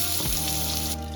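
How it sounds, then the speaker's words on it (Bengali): Potatoes fry in hot oil in a kadai with bay leaf and dried red chillies, giving a steady, close, loud sizzle with a brief stirring scrape and no talk. "আলুটা দিয়ে দিলাম, আলুটা একটু ভেজে নেব"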